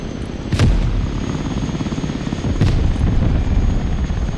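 An Osprey tiltrotor aircraft bringing in a supply drop in the war game Broken Arrow, a loud, close rotor drone with two sharp thuds over the continuous roar.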